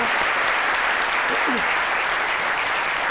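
Sustained applause from a studio audience on a midday television show: a dense, even wash of clapping throughout, with a brief voice surfacing faintly in the middle.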